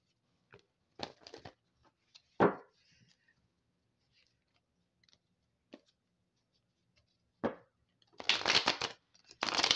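Tarot cards are shuffled in short separate bursts of riffling and slapping, with quiet gaps between them and a longer, louder shuffle at the end, close by and with no voices.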